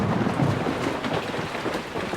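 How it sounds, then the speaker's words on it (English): Rain and thunder from a cartoon thunderstorm form a dense, steady wash of falling rain with a low rumble beneath it, continuous and fairly loud, with no voices. "Oh no, it's a thunderstorm."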